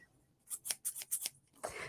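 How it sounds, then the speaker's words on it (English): Fringe scissors make a quick series of about five crisp snips, close and fairly quiet, followed by a brief papery rustle, with no talking. "I have had my PC fringe scissors for years"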